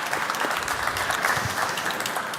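Audience applause at a digital technology summit stage event in Tallinn, a steady dense wash of clapping from a sizeable crowd that fills the whole stretch at even loudness.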